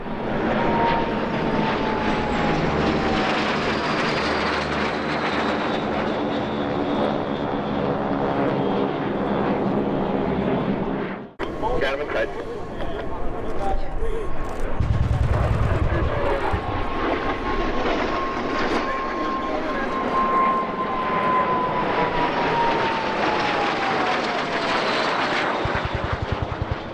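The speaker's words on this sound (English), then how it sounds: "Now we see three L-39s with their predecessor," Three L-39 jet trainers flying together with an L-29 at the EAA AirVenture Oshkosh airshow, a loud continuous jet roar that swells and fades as they pass, with a falling engine whine and a brief dip midway.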